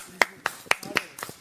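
A few people clap for a family on a Bigg Boss OTT reality show set, about five or six separate close claps in an uneven rhythm, with faint voices in the background.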